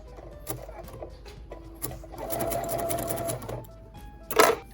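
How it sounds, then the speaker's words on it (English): Sewing machine stitching a neoprene fabric face mask, a steady close mechanical whir that runs for a couple of seconds between short bursts and handling clatter. "And then go ahead and sew the other side."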